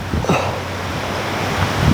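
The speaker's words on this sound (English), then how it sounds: "Very windy out here today" Steady wind blowing across the microphone outdoors on a disc golf course, a continuous rushing roar with low gusty rumble and no voices.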